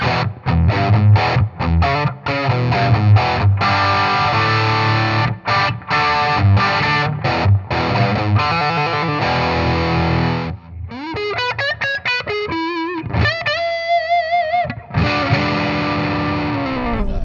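Loud, heavily distorted electric guitar through a Mad Professor Little Green Wonder pedal, playing chords and then bending lead notes, continuous and close, with no voices.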